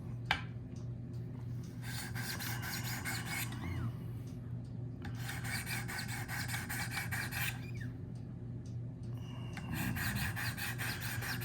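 A Spyderco Shaman knife with an S90V steel blade is sharpened on a Wicked Edge guided sharpener. Three runs of rapid, even rasping strokes stand out clearly above a steady low background hum, separated by brief pauses.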